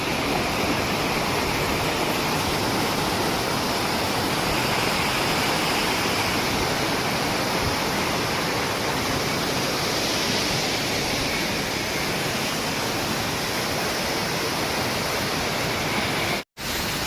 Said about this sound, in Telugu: ఆ పైనుంచి పడ్డ వాటర్ ఫాల్ మళ్ళీ ఇక్కడ నుంచి మళ్ళీ కిందకి వెళ్తుంది.